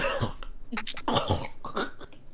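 A voice imitates a character violently coughing up blood, a run of harsh, throaty, gurgling coughs and hacks close to the microphone that fill the whole moment without pause.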